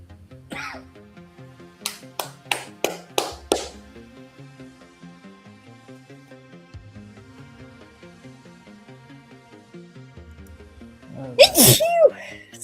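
Several sharp, quick sneezes burst out in a row near a group playing a tabletop roleplaying game. A louder, longer sneeze follows later, and quiet background chatter runs throughout.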